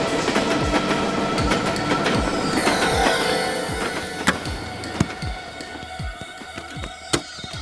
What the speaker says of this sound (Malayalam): ട്രെയിൻ എത്തിക്കൊണ്ടിരിക്കുന്നു